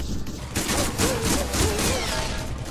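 Gunfire in a VR gun game, a cluster of sharp close shots popping in quick succession over a busy game mix, with a voice speaking briefly underneath.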